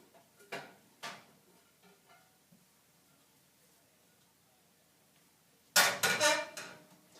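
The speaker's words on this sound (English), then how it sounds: "y volteen el tortilla en el plato" A Spanish tortilla is flipped from a pan onto a plate, with a couple of light clinks early on, then a loud cluster of clattering pan-and-plate knocks near the end, close by.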